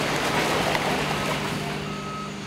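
At a recycling facility receiving area, a truck arriving and reversing sends out a loud, steady backup beeping over a heavy engine rumble, close and continuous with no talk.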